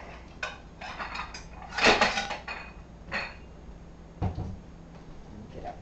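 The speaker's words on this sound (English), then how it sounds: "I'm gonna get a little plate to put these on" A small plate taken out for corn dog pancakes, with a few clinks and clatters of dishware and cupboard movement, fairly close and moderately loud with pauses between knocks.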